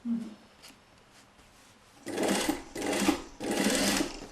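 A sewing machine stitches the side seams of a basque corset, running in three steady bursts after a quieter stretch of faint handling sounds, close and loud.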